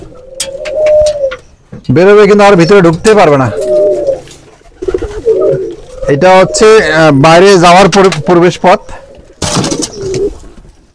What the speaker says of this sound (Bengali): এই যে কবুতরটা অবশ্য বেরোবে